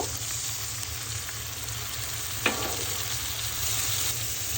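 Steady sizzling and frying of spices in a pan, a constant hiss with a brief clatter midway, no talking.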